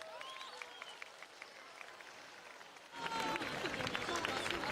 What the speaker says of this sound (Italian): accogliamo con un bellissimo applauso qui nel cuore dell'abitato.